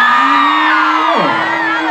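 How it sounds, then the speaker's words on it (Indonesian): A concert crowd in Hong Kong roars with loud cheering and whooping, dense and close, with a high voice rising and sliding over the dense mass of cheers. "Tepuk tangan dong"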